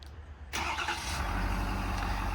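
A 2022 Ford F550 diesel 4WD service truck with an IMT mechanics bed fires up by remote start, a sudden crank catching into a loud, steady, rumbling diesel idle close by.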